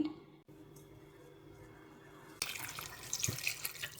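Water is poured into a pot of lentils mixed with turmeric, onion and garlic, and a steady splashing pour starts partway through, fairly close and fairly quiet.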